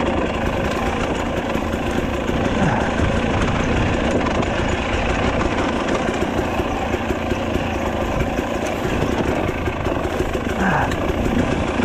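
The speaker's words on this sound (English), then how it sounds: "Rattling the hell out of my bike here." A Husqvarna TE300i enduro motorcycle engine drones steadily while the bike rattles and jolts over rough off-road terrain in Panama, loud and close for the whole stretch.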